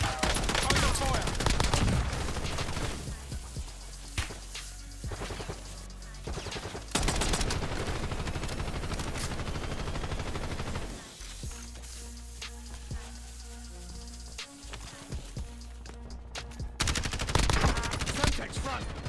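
Dense video game battle gunfire, with rapid machine-gun bursts and single shots layered almost without pause, loud and close, with brief quieter gaps and a voice shouting over the shooting.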